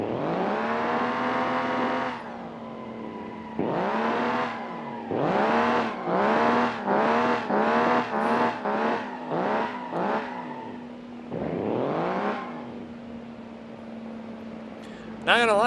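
A simulated car engine in BeamNG.Drive revs hard in repeated bursts during burnouts, rising and falling in pitch over a steady idle, loud and close, with occasional talk over it.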